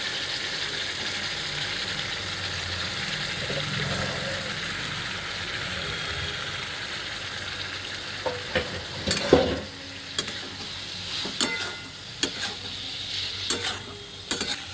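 Chopped banana flower (mocha) is stirred into cooked-down spices with turmeric in a pan, a steady soft sizzle under clinking and scraping spoon strokes that grow more frequent and sharper in the latter half.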